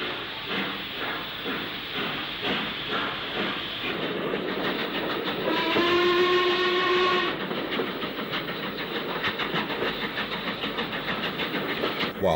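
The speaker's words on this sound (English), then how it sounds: "the train departs for Stoke again" A steam train rumbles steadily with rhythmic clickety-clack of wheels, a whistle sounding briefly midway as it departs and gathers pace, around Stoke-on-Trent in the 1960s.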